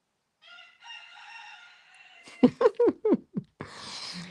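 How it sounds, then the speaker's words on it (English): A rooster crows clearly and fairly close, a long drawn call followed by a string of short clucking notes, then a burst of rustling noise. "you can hear a rooster crowing in the background."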